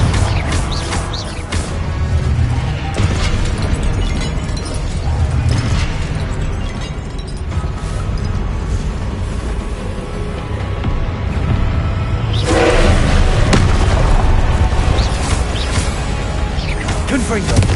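Confringo fire spell blasts in Hogwarts Legacy on PS5, a run of booming explosions and bursts amid layered game effects and combat noise, with a louder surge of impacts near the end.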